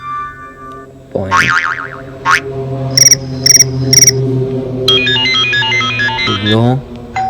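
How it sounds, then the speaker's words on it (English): Playful boing ringtone on an iPod touch 4th generation: springy wobbling bounces and zips mixed with bright chirping electronic blips and a quick tinkling run, loud and busy over a steady low drone. "Boing."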